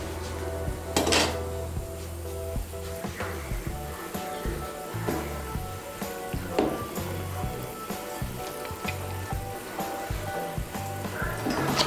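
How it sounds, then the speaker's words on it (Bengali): Fried rohu fish pieces drop into a pot of boiling Bengali fish curry, with repeated clinks of a metal utensil against the pot and a steady low bubbling beneath, close and moderately loud. "এখন আমি এর মধ্যে দিয়ে দেবো ভেজে রাখা মাছগুলো।"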